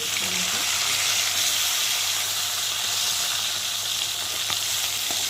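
Continuous hot-oil sizzle and hiss of tilapia fish pieces frying, loud and close, with a low steady hum underneath.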